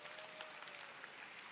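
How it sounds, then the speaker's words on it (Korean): An audience at a product presentation for the Atomy Slim Body New Fit protein shake applauds with steady, brisk clapping that sounds distant and faint. "박수 한번 부탁드리겠습니다."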